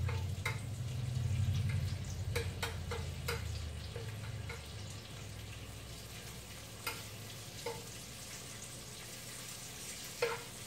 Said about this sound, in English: Bacon's cooking up nice.